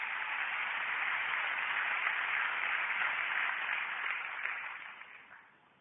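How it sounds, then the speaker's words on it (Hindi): Applause from a seminar audience, a dense sustained crowd of clapping holding steady for several seconds before tapering off toward the end, with no speech over it. "उनके लिए एक जोरदार ताली मैं चाहूंगा"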